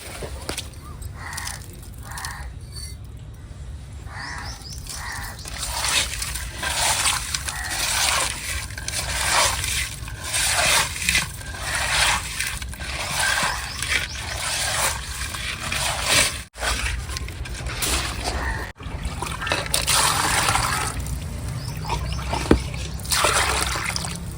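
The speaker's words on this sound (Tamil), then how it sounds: "நான் உப்பு போட்டு உரைஞ்சி எடுத்துடலாம்" Fish is rubbed with salt and rinsed in water by hand, giving repeated wet scrubbing and splashing strokes with trickles in between, close and moderately loud, with crows cawing faintly in the background.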